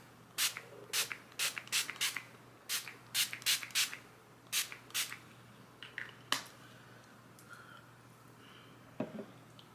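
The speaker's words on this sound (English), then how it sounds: "This is a matte setting spray mist. And just spray it all over my face." Bursts of e.l.f. matte setting spray misted onto a face, a quick rhythmic series of about a dozen short close hissing puffs, followed by a few softer handling sounds.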